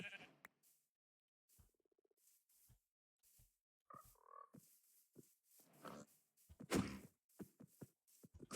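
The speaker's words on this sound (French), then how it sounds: "Ah oui, grenouille partout" Frogs in Minecraft croak in short, scattered calls among other quiet game sounds, some near and some faint, with brief gaps of silence between.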